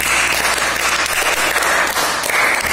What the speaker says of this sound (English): Clap for Raksha.